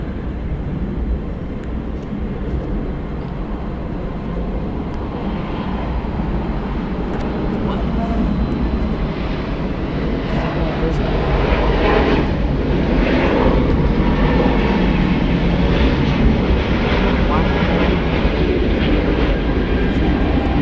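A jet airliner at Atlanta's Hartsfield-Jackson airport taking off, a loud broad engine roar that builds and holds steady throughout, with talk over it.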